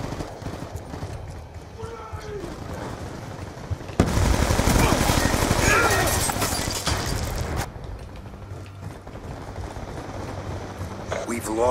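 Rapid automatic gunfire from Call of Duty: Black Ops 2 swells into a dense, loud burst in the middle, set within the game's steady battle noise and background voices.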